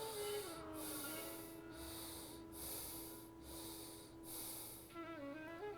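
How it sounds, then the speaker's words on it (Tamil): Slow, deep breathing during a yoga mudra, with several long breaths in and out at an even pace, soft and close, and no talking. "மெதுவாக மூச்சை உள்ளெழுத்து மெதுவாக மூச்சை வெளியே விடுங்க"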